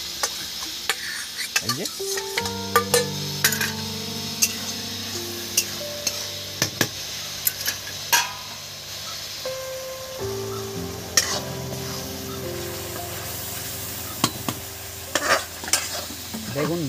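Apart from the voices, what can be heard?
water added to frying masala in pan, sizzling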